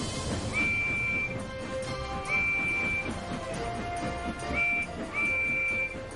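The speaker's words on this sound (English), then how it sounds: "If I follow the sound of his whistle, I will find him." A steam train whistle in a video game sounds in repeated held tones over a steady rumbling background, with a couple of shorter lower whistle notes mixed in.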